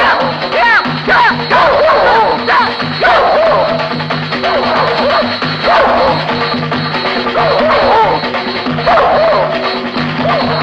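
Several dogs bark and yip repeatedly in rapid, overlapping bursts, loud and close, with some whimpering mixed in, heard in a Telugu comedy film scene.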